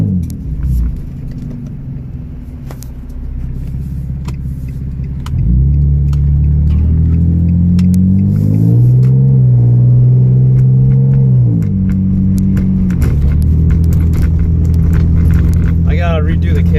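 A Nissan 350Z engine rumbles steadily, then revs up with rising and falling pitch in a few surges before settling back to a loud idle.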